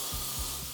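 Hairspray being sprayed while a side bang is styled during a makeup and hair session, a close continuous aerosol hiss lasting under a second, with no talking.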